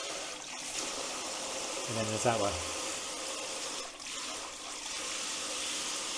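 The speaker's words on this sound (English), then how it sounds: "It's got four different spray patterns." A Mira Sport electric shower spraying water, a constant loud hiss of spray filling the whole stretch, with people talking briefly over it.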